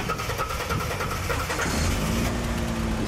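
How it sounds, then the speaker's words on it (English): A car engine cranks and catches, then settles into a running rumble, close and loud with no talk. "Let the Lord Jesus be with you, and the car will start"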